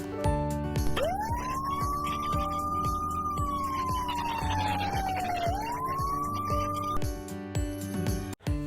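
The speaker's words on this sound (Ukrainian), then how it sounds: "Зараз пожежник Іванко та дракончик погасять пожежу" A fire engine siren rises, holds a long wailing tone, dips, then climbs again over a background rumble, loud and close throughout.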